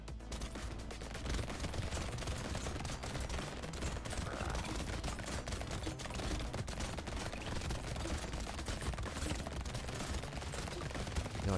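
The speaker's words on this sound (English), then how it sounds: "Minigun just kind of feels like a bigger SMG." A minigun fires in a video game, a dense continuous burst of rapid gunfire sustained for the whole stretch at fairly low level.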